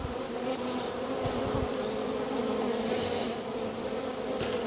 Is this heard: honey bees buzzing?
yes